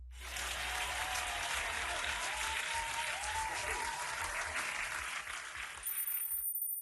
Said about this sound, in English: I'll give you a round of applause this time